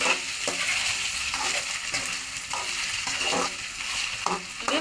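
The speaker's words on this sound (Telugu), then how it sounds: "ఇవి బాగా ఈ నూనెలో ఎర్రగా వేగాలండి." Ingredients for a chutney deep-fry in hot oil, giving a loud, continuous crackling sizzle close by, with a few irregular stirring scrapes scattered through it and no talking.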